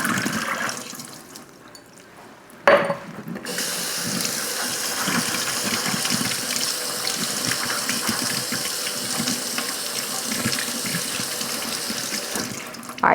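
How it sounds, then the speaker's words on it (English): Tap water runs hard into a kitchen sink while drained beans are rinsed, a loud steady gush that pauses briefly and then restarts and continues without talk. "I'm going to go ahead and get these beans drained. I'll rinse them off a couple of times."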